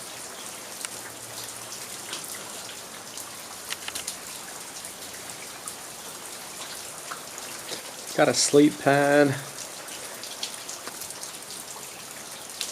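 Steady rain patters on camping gear outdoors during a rainy e-bike camping trip, a continuous soft hiss throughout with a brief burst of close handling noise and a short spoken remark.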